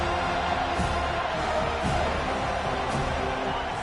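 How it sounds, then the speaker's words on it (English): A football stadium crowd roars steadily on third down during a home game against JMU, a dense, constant wall of cheering with faint bursts of noise above it. "this crowd will blow out a vocal cord to help this defense"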